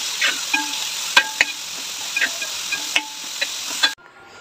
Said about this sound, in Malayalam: ഇതെല്ലാം കൂടെ നന്നായി നമുക്കിതൊന്ന് വഴറ്റിയെടുക്കാം